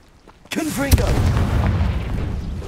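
A Confringo spell explosion in the video game Hogwarts Legacy goes off as a loud, sudden boom right after a shouted word. The blast then rumbles on with a heavy, lingering roar.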